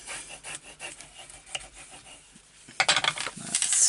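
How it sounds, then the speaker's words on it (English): Paper is rubbed and burnished flat by hand while a flip-style mini album is assembled. The faint, soft scraping strokes repeat at a steady pace and grow louder near the end. "Give that a good burnish down."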